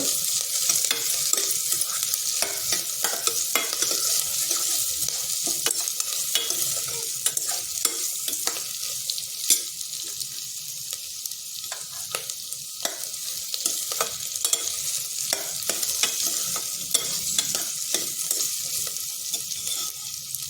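Carrots stir-frying in a pan for a Mughal veg pulao, a steady dense sizzle broken by frequent scraping stirs of the spatula, close and continuous with no voices.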